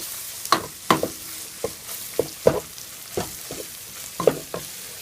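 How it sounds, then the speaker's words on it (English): A spoon scrapes and stirs flour into sizzling gravy in a pan, irregular scraping strokes over a steady frying hiss, close and fairly loud, with no voices. "The important part is to mix the flour and make sure the gravy softens up the flour."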